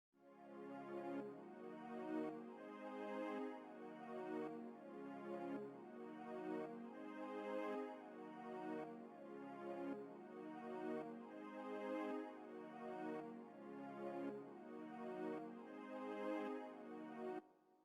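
Strings from the Purity plugin's V and strings 2 patch for a Seben beat, playing a soft, steady, rhythmically pulsing figure of repeated chords that swell and ebb for about eighteen seconds, quiet and alone.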